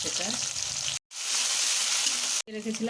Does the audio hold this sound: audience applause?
no